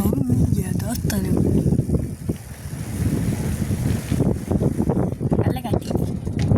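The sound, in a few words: strong wind while cycling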